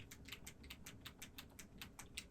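Rapid plastic button clicks from Nintendo Joy-Con controllers, a steady series of small sharp taps at close range with no talking.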